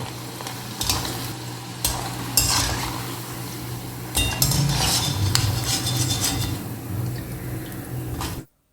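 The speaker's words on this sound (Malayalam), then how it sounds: "കുറേച്ചെ കുറേച്ചെ ഇട്ട് വറുത്തെടുക്കണം അല്ലെങ്കിൽ ഇത് ഒട്ടിപ്പിടിക്കും" Small batches of leftover rice snacks fry in a hot pan, giving a steady close sizzle with stirring clinks and scrapes of a utensil against the pan. No one speaks.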